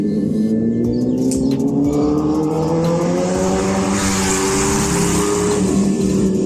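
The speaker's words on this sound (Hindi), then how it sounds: "भाई बहुत ही खतरनाक आवाज़ आती है, जिससे मैं थोड़ा रुक भी गया था। तो निंजा ZX10R थी।" A Kawasaki Ninja ZX10R motorcycle engine revs hard and close, a loud sustained roar that climbs steadily in pitch across several seconds with no talk over it.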